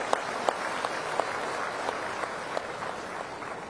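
An audience at a public event on inland waterways applauds in a steady, even wash of clapping with a few sharper individual claps, lasting several seconds.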